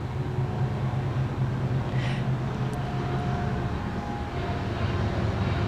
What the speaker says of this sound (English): And we do have a train going through, a little background noise for us.